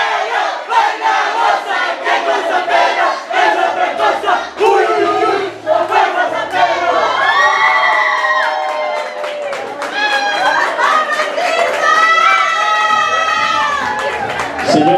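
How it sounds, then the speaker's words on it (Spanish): A crowd at a Miss Caporalita 2018 pageant crowning cheers loudly and applauds, with shouts and high whoops rising over continuous clapping and chatter throughout. "Fuerte los aplausos"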